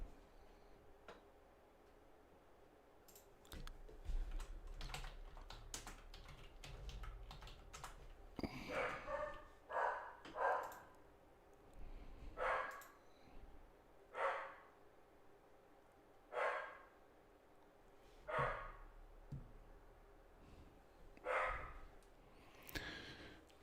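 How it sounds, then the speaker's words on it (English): A Dachshund barks in another room, a series of muffled, evenly spaced single barks about every two seconds, under a background of clicking computer keyboard typing in a quiet indoor space. "Hopefully the dog barking is not bothering you guys."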